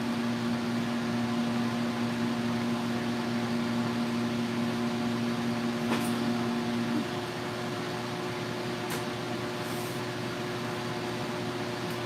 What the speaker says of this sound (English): That is my air conditioner. It'll turn off in just a second. I know it's kind of loud.